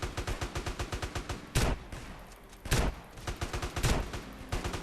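Rapid automatic gunfire in the GTA RP video game rattles in a steady stream of fast shots, broken by three heavier, louder blasts, all close and prominent with no talking over it.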